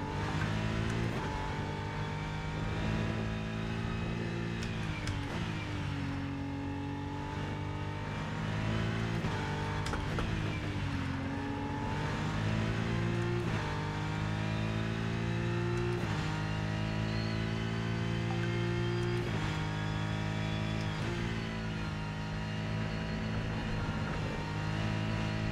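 BMW GT3 race car engine in the RennSport sim at Hockenheim, a steady loud drone with rising and falling pitch through gear changes and corners, continuous throughout with no talk.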